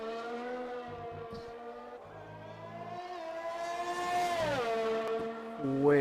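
A Racing Point Formula 1 car in a racing game screams through a qualifying lap, its high engine whine holding steady, then climbing sharply and dropping on a downshift before revving up again, loud and close.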